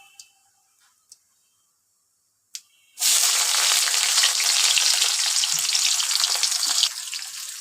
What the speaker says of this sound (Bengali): প্রথমে সাদা তেল দিয়ে নিব, 2 চিমটি জিরা দিয়ে নিব